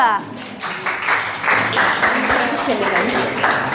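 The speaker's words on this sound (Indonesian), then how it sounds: "beri tepuk tangan dulu untuk kelompok 2" A classroom of students claps together, the applause building quickly and holding steady, with some voices mixed in.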